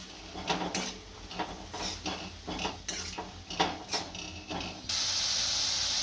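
Chickpeas tipped into a cooking pot and stirred for a halwa puri chana meal, with repeated scraping and clattering of a spoon against metal, then a steady hiss near the end; no talking.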